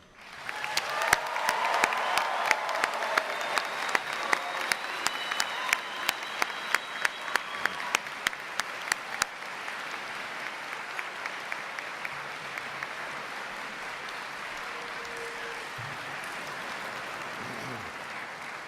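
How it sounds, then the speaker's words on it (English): Loud, sustained applause from a large crowd of graduates at a commencement ceremony, with sharp individual claps punching through the roar before it gradually thins and fades out. "give a thunderous round of applause for their parents who are here today"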